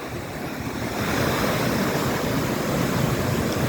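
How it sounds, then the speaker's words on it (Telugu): Floodwater of the overflowing Munneru river rushes steadily in a loud, continuous roar, rising slightly after the first second and holding constant with no voices. "ఆ సౌండ్ వాటర్ చూడండి ఎంత ఘోరంగా ఉన్నాయంటే చాలా ఘోరంగా ఉన్నాయి."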